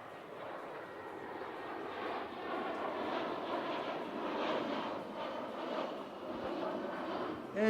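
A Saab aircraft in a flying display passes in a steep bank, a steady, moderately loud engine roar that rises and falls gently, distant and continuous, with a brief louder burst at the end.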